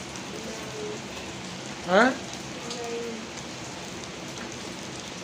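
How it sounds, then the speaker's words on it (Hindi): Heavy rain falling outdoors during a monsoon downpour, a constant hiss of drops over the whole stretch, with a brief voice cutting in near the middle. "बारिश जो कि है रुकने का नाम नहीं ले रही है।"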